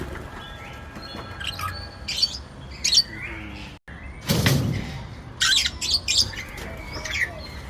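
Parrots at a zoo in Côte d'Ivoire squawk and chirp in sharp, scattered bursts, some harsh and loud, others short tweets, with a brief flutter of wings and no talking.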